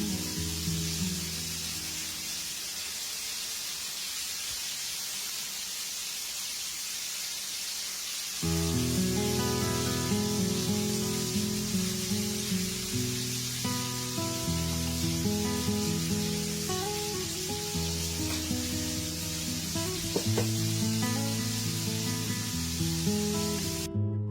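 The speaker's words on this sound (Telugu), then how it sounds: "మిర్చి బాగా ఫ్రై అయిపోయాయి." Green chillies frying in hot oil in a pan, a steady close sizzle and hiss that swells louder partway through and keeps crackling on its own.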